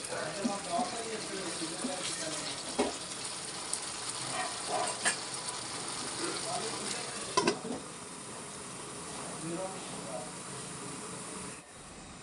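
Prawn and egg curry with garam masala is stirred in a pan: a low, continuous sizzle is broken by scraping and clinking spoon sounds, with a faint voice in the background.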